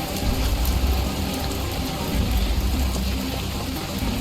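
Dense rain hisses steadily in the video game Schedule 1, a broad, even wash of falling water with a faint low rumble beneath, loud and continuous throughout.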